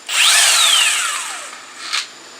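A cordless power tool whirs loudly up close with a high whine that slowly drops in pitch as it runs down, followed by a brief second burst.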